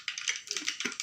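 Mustard seeds crackle and spit in hot oil in a pan on a stove while upma is cooked, a quiet, close run of rapid irregular pops with no talk.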